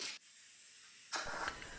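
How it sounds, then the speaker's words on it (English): DIY powder coating gun bought off eBay, spraying onto an axe during a chain axe restoration: a short, soft airy hiss that cuts out, a brief pause, then a louder spray burst near the end. "This my powder coating gun was off eBay."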